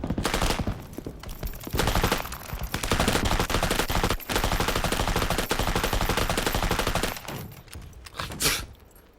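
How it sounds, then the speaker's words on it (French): Machine gun fire in an animated war film rattles in long, dense, loud bursts with brief pauses between them, nearby and filling almost the whole stretch before a final short volley. "Cette mitrailleuse est pas loin."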